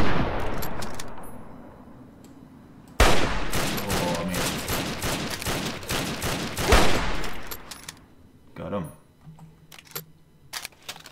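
Rapid M14 rifle gunfire in the video game Fallout 3, a sudden dense volley of loud sharp shots packed together for several seconds before tapering off into scattered quieter pops.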